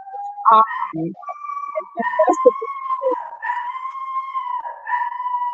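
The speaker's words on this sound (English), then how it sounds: "Sorry, that's my dog." A dog howls and yips in drawn-out, wavering tones over several seconds, close by, mixed with a few short barks.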